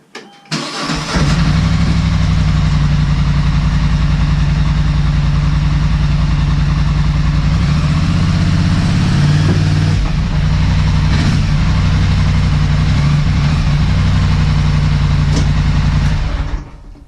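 An ATV engine starts and runs as the quad climbs onto blocks inside a Fuzion toy hauler in 4-wheel drive low range, a loud, close, steady chugging idle with slight revs.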